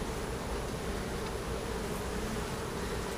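Honey bees at a packed, strong hive with bees bearding outside make a dense, continuous close buzzing drone that stays steady with no talk.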